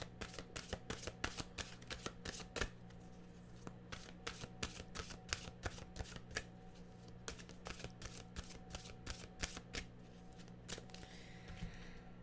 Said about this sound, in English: let's get a mantra card. We'll go to the animal cards